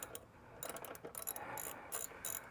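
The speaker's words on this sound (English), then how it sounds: "This is a 10mm. Just going to simply take this nut off." Ratchet wrench taking a 10mm nut off a Honda Goldwing motorcycle, a faint run of quick clicking pawl bursts, close by and alone.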